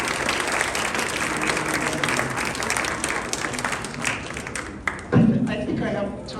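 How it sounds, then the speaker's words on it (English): Audience at a magic show gives a round of applause, dense sustained clapping that fills the room, thinning out near the end with a thump. "Let's hear a round of applause."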